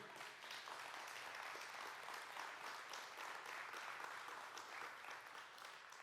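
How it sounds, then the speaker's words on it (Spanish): Church congregation applauding for the King, a steady dense wash of many hands clapping throughout, loud and continuous with a faint voice underneath. "¿Por qué no le das un aplauso al Rey?"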